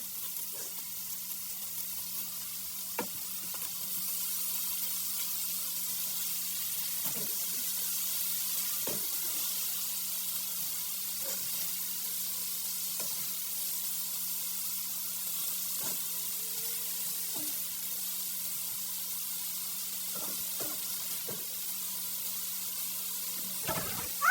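Bean sprouts (toge) stir-frying in a pan, a soft steady sizzle running throughout with occasional sharp clicks and scrapes of a utensil, fairly quiet and close, no talking.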